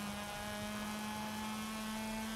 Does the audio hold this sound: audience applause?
no